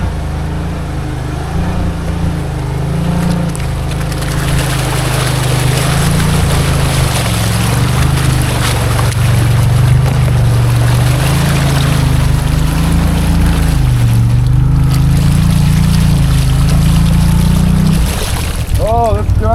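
A Maverick Sport XMR UTV on 35-inch Aztex tires in low range with the front diff locked, engine droning loud and close as it pulls through a mud hole, revs rising and falling in long waves with sloshing underneath.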